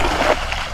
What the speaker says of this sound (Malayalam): തോട്ടിൽ വീശാൻ മാക്സിമം കൊള്ളിച്ച് വീശിയിട്ടുണ്ട് കേട്ടോ.